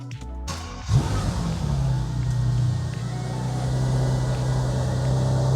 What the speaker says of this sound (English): as you can hear, the W12 kicks in and it does sound absolutely incredible